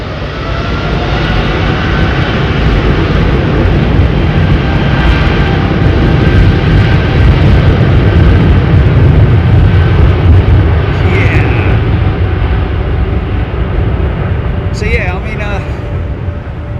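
An aircraft roars loud and continuous at London Heathrow Airport, a broad steady rumble lasting throughout.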